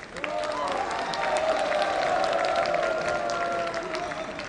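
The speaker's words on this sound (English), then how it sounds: "Ladies and gentlemen, let's give the Pom Cultural Troupe a big round of applause." Festival audience applauding a cultural troupe at the Hornbill Festival's cultural program, a steady outdoor crowd sound lasting throughout with a voice or tonal sound running underneath.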